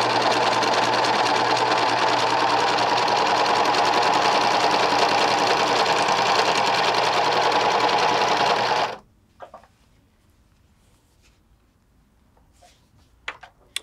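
A three-thread overlocker serger finishes fabric seams with a loud, steady, whirring hum for about nine seconds. It then stops abruptly, leaving a near-quiet room with a few faint clicks.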